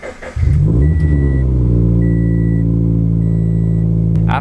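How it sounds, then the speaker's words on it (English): A manual-transmission car engine cranks briefly in neutral, catches, and settles into a loud, steady idle with a rising rev, heard up close and alone. "Make sure your gear is in neutral and turn on the car."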